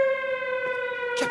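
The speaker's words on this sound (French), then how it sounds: "C'est une alarme." An alarm siren in an animated film sounds as a steady, harmonically rich tone that holds throughout, with a short noisy burst near the end.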